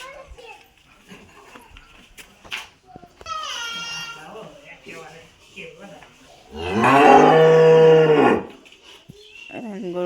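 A cow moos loudly and close by in the morning on a village farm, one long low call, with a shorter higher call earlier and children talking and shouting around it.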